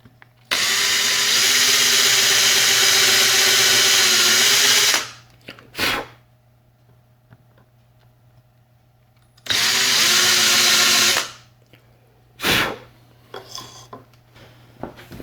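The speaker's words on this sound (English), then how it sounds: "I'm using a 1/4 inch Forstner bit" A power drill fitted with a 1/4 inch Forstner bit bores into a wooden 7-inch minnow lure in two loud, steady bursts of several seconds each, with short clattering handling noises after each pass.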